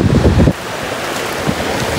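Surf and ocean waves on the beach at Máncora, Peru, heard as a steady wash of broadband noise with wind buffeting the microphone, louder and rumbling at first, then settling into a constant roar.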